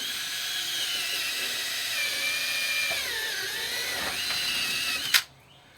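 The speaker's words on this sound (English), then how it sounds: "take this little hole enlarger, step drill they call it," A step drill enlarges a hole in a van sub-floor with a steady high-pitched whine that dips in pitch as it bites into the material, then stops abruptly with a short clunk. It is close and loud, with no talking.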